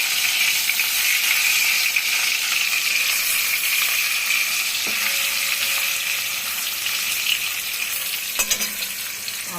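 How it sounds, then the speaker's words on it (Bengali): Pieces of katla fish fry in hot oil in a pan, giving a steady, dense sizzle with crackling throughout and a few brief clinks and scrapes partway through. "এইভাবে বাদবাকি মাছগুলো ভেজে নেব।"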